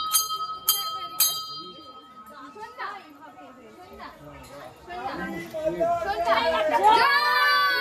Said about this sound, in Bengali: আর এখন আমার একটু ঘন্টা বাজাতে ইচ্ছে হলো, তাই ঘন্টা বাজালাম।